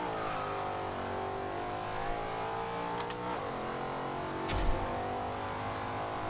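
Simulated 2013 Ford Shelby GT500 muscle car in the Forza Horizon 2 racing game, engine droning steadily under load with a low rumble throughout and brief shifts or revs partway, loud and continuous with no talk.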